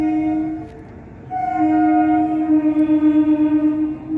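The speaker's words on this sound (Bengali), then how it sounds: "ওইদিকে যাচ্ছে ট্রেন" A passing train on the riverside line near Babughat, heard from a boat on the Ganges, sounds long tonal horn blasts over a rhythmic rolling rumble of wagons, fairly loud and without talk.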